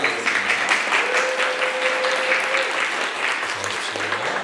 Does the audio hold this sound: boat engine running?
no